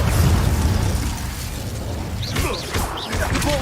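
A fire spell, Incendio, cast in a Harry Potter wizarding video game, giving a brief whooshing, crackling burst over a steady low game rumble, with short chirping magical effects that follow.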